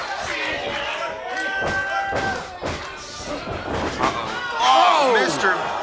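Wrestling crowd at a live show chants in rhythmic waves, loud and dense, with thuds and slams from the ring and an announcer talking over it.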